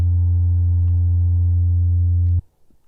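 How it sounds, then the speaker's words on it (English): A steady, pure electronic sine wave tone in Bitwig 5.0 with a low hum, holding evenly for over two seconds and then cutting off abruptly into near silence. "This is just a sine wave."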